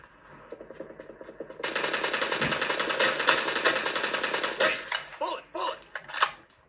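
Rapid automatic gunfire in the mobile battle royale game New State running on a gaming phone, dense crackling bursts that start after a quieter stretch, then break into shorter volleys.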